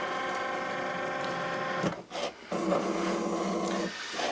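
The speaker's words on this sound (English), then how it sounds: "And press the little Cricut head, and it's off and cutting." A Cricut Maker cutting machine slicing through card, a steady close mechanical whir and hum with a brief pause and shift in tone midway, then continuing its motor drone alone.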